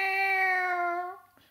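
A human voice imitates a cat's meow with a single sustained, drawn-out tonal call of just over a second, close and clear, trailing into a short breathy sound.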